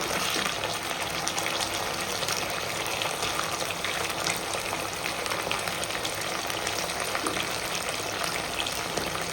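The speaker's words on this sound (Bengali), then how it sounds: "এবার আমি জল দিয়ে দেবো।" Water poured into a pan of katla fish pieces coated in spices for a kalia curry, making a steady, loud rushing gush that fills the whole stretch without any talk.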